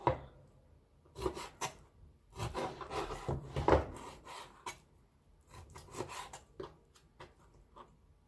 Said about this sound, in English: now I'm just going to start cutting these riblets